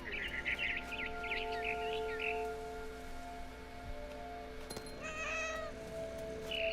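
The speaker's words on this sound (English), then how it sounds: "And suddenly, I was a cat." A cat meowing in a narrative video game, several close, clear meows in short bursts with faint bird chirps and a soft ambient hum behind them.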